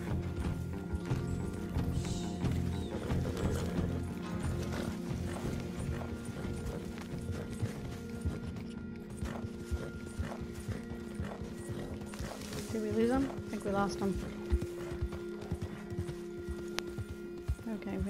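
A horse galloping in the video game Red Dead Online, a continuous rapid drumming of hooves with a whinny partway through, while a player talks over it.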